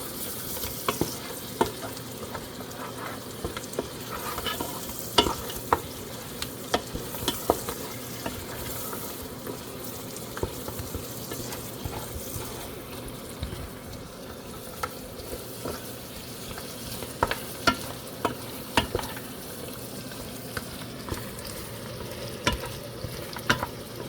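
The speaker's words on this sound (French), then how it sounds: "Et on mélange le tout. Et on laisse mijoter pendant quelques minutes." Mutton and rice mixture stirred and left to simmer in a pot, giving a faint, continuous bubbling hiss broken by frequent small clicks and scrapes of the spoon; no voices.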